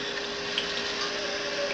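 Tap water runs into a cooking pot for fettuccine, a steady rushing, bubbling fill that sounds close and constant for the short stretch, with no voices.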